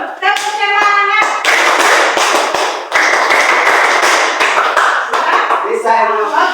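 Schoolchildren in a classroom clap loudly in a rhythmic spirit-clap chant, sharp synchronized hand claps alternating with chanted voices in a close, energetic burst.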